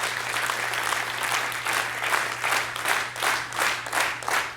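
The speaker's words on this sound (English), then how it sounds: "If you guys could all clap together in unison" A lecture audience claps together in unison, a steady run of loud synchronized claps at a regular beat, roughly two per second, over a low constant hum.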